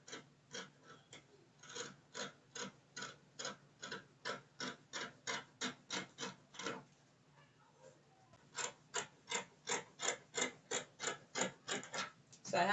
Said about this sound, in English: now I can cut out the front armhole and the front neck line